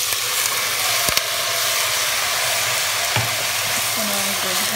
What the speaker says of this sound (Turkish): Ispanağımızı da evet şekilde kavuralım.